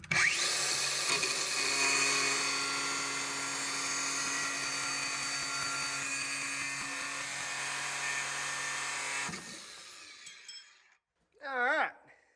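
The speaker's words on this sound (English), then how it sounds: "All right, try this grinder." Angle grinder running on a 1989 Chevy square body truck during a flatbed and cab teardown: a loud, steady, high whine that holds for about nine seconds and then winds down, followed by a brief voice.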